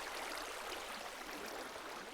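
Water is placed from buckets in Minecraft, producing a steady, soft rushing flow like a stream, continuous and faint throughout.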